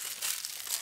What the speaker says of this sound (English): And I cannot open up plastic bags.